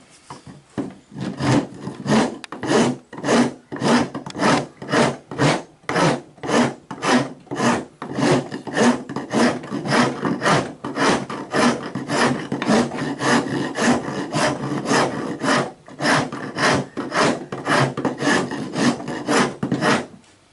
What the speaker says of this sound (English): when I'm using my rasp, it doesn't hit this board